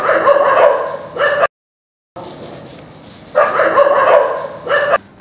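Stray dogs barking in repeated bursts of overlapping barks and yips, loud and close, with a brief silent gap and a quieter stretch before the barking picks up again.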